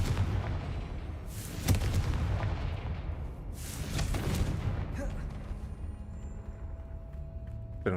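Confringo spell from the video game Hogwarts Legacy, cast in combat: a few heavy booming blasts with rumbling impacts, the loudest bursts coming in two or three surges before fading into quieter game ambience.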